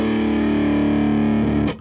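Electric guitar in drop D tuning through an amp with the preamp volume cranked for heavy overdrive and a touch of reverb: one loud, sustained, growly distorted chord rings steadily, then is cut off with a brief scrape near the end.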